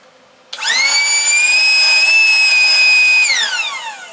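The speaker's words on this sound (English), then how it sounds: "I like the fact that you can inflate and deflate stuff" A portable air inflator with its hose attached starts abruptly, runs with a steady high-pitched motor whine for about three seconds, then winds down as it shuts off.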